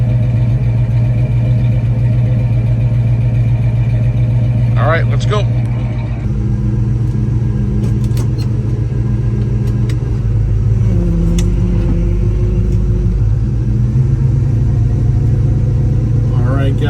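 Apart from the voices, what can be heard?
1955 Chevrolet Bel Air engine running and driving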